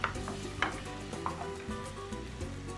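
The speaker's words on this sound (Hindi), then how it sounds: "so I stir fry my vegetables for about 1 or 2 minutes" Chopped carrot, cauliflower, beans and zucchini being stir-fried for minestrone soup, a soft, steady sizzle with a few sharp clinks of utensil against the pan at regular intervals.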